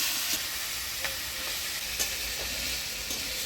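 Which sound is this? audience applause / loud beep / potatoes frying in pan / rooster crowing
potatoes frying in pan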